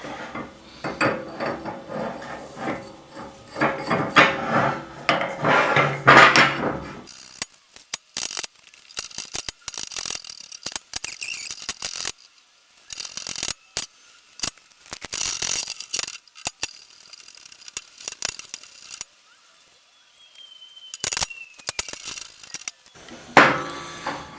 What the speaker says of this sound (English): Now let's thread the box on.